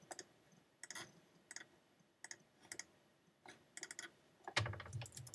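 Keys tapped on a computer keyboard while entering text in Google Slides, soft close clicks in short irregular bursts with brief pauses, ending in a slightly louder flurry.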